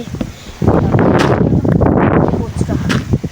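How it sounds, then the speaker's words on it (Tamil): Strong wind gusts roar and buffet the microphone outdoors on a rooftop, rising and falling in loud rushing bursts across the whole stretch, with no clear voices. "ரொம்ப காற்றடிச்சு தொலையுது"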